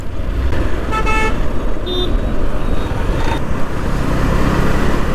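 Loud, dense road traffic rumbles close by on a busy service road in Chennai, with several short horn toots cutting through the engine noise.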